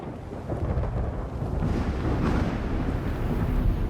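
Thunderstorm over mountains, a continuous low rumble of thunder rolling steadily throughout with wind buffeting and a dense noisy wash, no voices.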